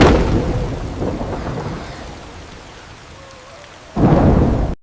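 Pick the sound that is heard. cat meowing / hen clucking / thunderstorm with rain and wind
thunderstorm with rain and wind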